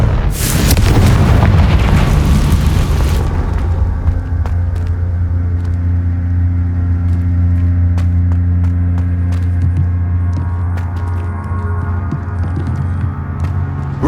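A Confringo spell explodes in Hogwarts Legacy with a loud, broad blast in the opening seconds, then fades into a low, sustained rumbling hum that carries on alone to the end.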